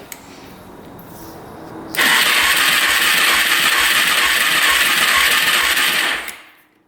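A quad's engine cranks with the throttle open during a compression test, a loud, steady whirring burst that starts abruptly after a quiet lead-in, holds for about four seconds, then fades.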